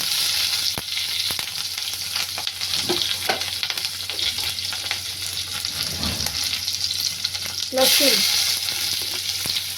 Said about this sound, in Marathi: इकडे तेल गरम झालं आहे बघा, व्यवस्थित गरम झालं आहे. थोडं जिरं टाका, त्यावेळी मी मिरची टाकते